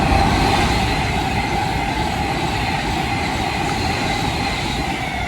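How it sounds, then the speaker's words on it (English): A Class 390 Pendolino electric train, running from Manchester Piccadilly to London Euston, rushes through Bletchley station in a loud, steady roar with rumbling wheels and a sustained high hiss. "there goes 390-157 running from Manchester Piccadilly to London Euston"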